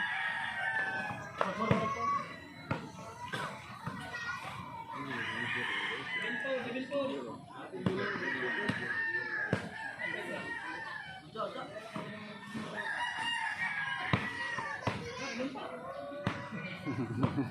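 Dog barks and yelps ring out repeatedly amid scuffling footsteps and game-style effects in Grand Theft Auto V on PS4 Pro, with a voice calling out now and then.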